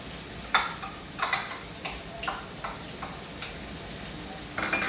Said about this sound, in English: That's the garlic and the onion.